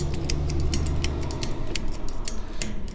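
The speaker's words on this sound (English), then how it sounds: "So then we'll start to ratchet this up." Ratchet strap cranked tight, a steady series of sharp close clicks in regular rhythm over a low background rumble.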